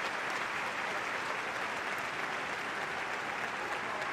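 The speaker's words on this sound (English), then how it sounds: "he gets a nice round of applause from what is still his new" Broad, steady applause from a football stadium crowd during a J1 League match between Kawasaki Frontale and Kashiwa Reysol, sustained and dense as a player is substituted off, heard from a distance without a break.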